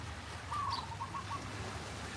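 Small birds chirp by Hilo Bay, giving a few faint, brief high tweets over a steady low rumble of ocean and wind in the open.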